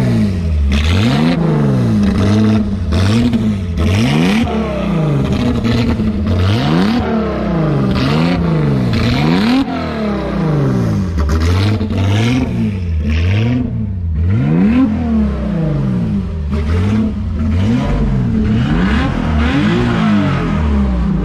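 A Peugeot 505 V6 historic touring race car at Nogaro revs loudly and repeatedly, the engine note sweeping up and down in quick, rhythmic blips, close and continuous throughout.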